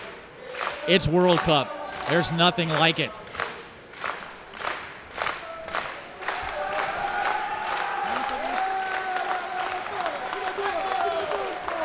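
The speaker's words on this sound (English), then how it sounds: "The crowd beginning to sing." A crowd at a foosball World Cup quarter-final between national teams breaks into chanting and singing, with bursts of cheering and clapping, loud and sustained while a commentator speaks over it.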